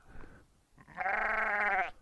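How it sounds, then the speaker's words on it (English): A single sheep bleats close by, a wavering, drawn-out cry that follows a short, fainter bleat. "I suspect it's probably the sheep."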